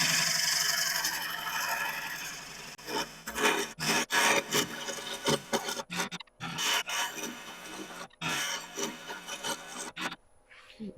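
A plywood lighthouse taper turns on a wood lathe while a tool scrapes and rasps against the spinning work in rough bursts, broken by short pauses, close and fairly loud.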